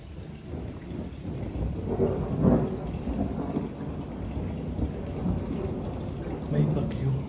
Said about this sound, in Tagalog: May bagyo.